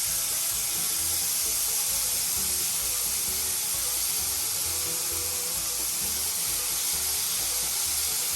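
Halibut cheek frying in hot olive oil, giving a steady, close broadband sizzle and hiss throughout, with no voices over it.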